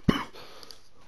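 A single short, sharp cough bursts out close to the microphone, followed by quiet room tone.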